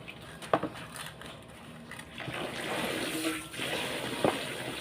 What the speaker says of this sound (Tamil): சோப்பு தண்ணியில் போட்டு ஊற வைக்க போகிறேன்.